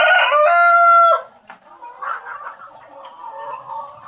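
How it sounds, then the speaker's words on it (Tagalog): A rooster crows loudly and close at the start, followed by softer scattered clucking from chickens nearby in a backyard lot. "Dito ko pinagsama-sama yung mga manok ni Sir Kabokal."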